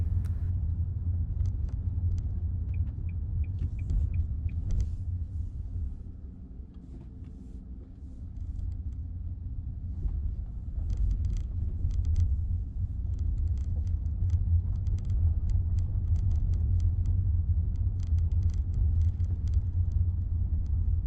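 A car engine rumbles low and steady as the vehicle creeps slowly through Christmas traffic past a pedestrian and illegally parked cars, with faint ticking and clatter from the street around it.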